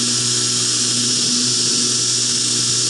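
A belt grinder works a knife blade, a loud, steady high-pitched whine and abrasive hiss that holds evenly throughout with no pauses.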